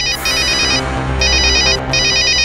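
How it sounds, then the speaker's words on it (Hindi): A mobile phone ringtone plays loud, bright repeating bursts of electronic tones with short gaps, over a low background hum. "किसी का मोबाइल फोन है।"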